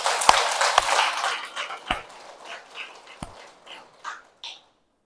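A congregation claps in the Holy Spirit Hall of Dapdong Cathedral in Incheon. A short burst of applause fades within a couple of seconds, followed by a few scattered sharp knocks and faint trailing noises.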